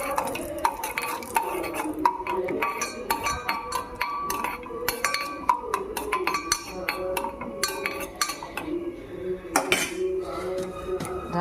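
Cashews in ghee are stirred around a metal pan, with a steady run of spoon scrapes and clinks close by and only a faint sizzle underneath.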